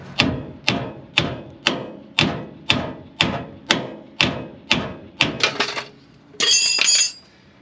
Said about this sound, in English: Let's try the hammer though. Let's try doing the hammer.